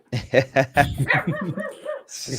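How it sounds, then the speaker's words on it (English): A dog barks repeatedly in a quick, loud run of yapping barks up close, then lets out a few whining, whimpering yips, with a brief hiss of noise at the end. "They just let their dog go mental down the road and don't stop it, and then it just sets off all the dogs in the neighborhood"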